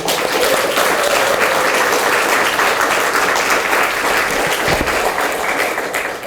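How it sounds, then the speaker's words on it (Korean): A hall audience at a Justice Party leadership inauguration ceremony applauds at length, a thick, even roar of many hands clapping that carries for several seconds and eases slightly near the end. "다시 한번 박수를 보내드리고 싶습니다."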